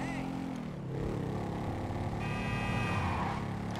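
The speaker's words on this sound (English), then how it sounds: "stop honking the horn." A car horn honks in the GTA 5 video game, a sustained toot rising over steady engine and traffic noise, with a voice heard briefly nearby.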